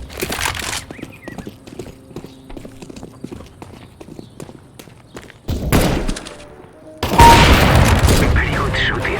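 Gunfire during a Counter-Strike: Global Offensive team deathmatch on the Inferno map: sparse faint clicks and thuds, then two loud bursts of shots near the end, with game voice lines around them.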